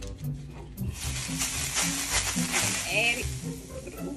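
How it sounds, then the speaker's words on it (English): Butter sizzling on a hot grill, a steady crackling hiss that runs throughout while people talk over it close by. "add some more butter to the grill"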